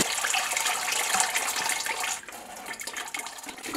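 White feldspathic ceramic glaze being poured into a clean bucket, a continuous splashing liquid stream that drops slightly in loudness partway through, heard alone without talk.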